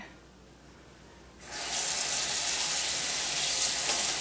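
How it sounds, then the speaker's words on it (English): Fresh basil leaves being rinsed under a running kitchen tap while making homemade pizza, the water switching on after a quiet moment and then streaming steadily and fairly loudly with no voice over it. "Rinse it real well."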